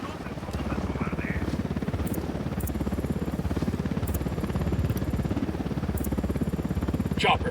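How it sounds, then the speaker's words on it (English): A helicopter approaches in the video game Ghost Recon Wildlands, its rotor beating out a rapid, even thumping that stays loud and steady throughout, with a low engine drone underneath and a few faint higher game noises. "Chopper incoming."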